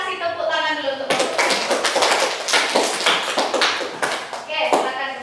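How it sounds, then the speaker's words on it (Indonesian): A classroom of lower secondary pupils clapping for their teacher, a burst of brisk, close hand claps lasting a few seconds, with voices before and after. "Kita kasih tepuk tangan dulu untuk guru"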